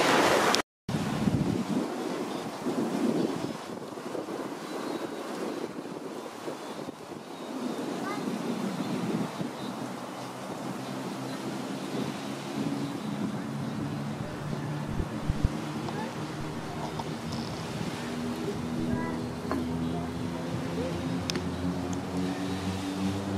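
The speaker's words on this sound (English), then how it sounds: "This is all really beautiful sandy beach." Waves breaking on a sandy shore at Chalan Kanoa Beach, Saipan, with steady wind buffeting the microphone; a loud gust hits at the start, then continuous surf and wind roar persist throughout.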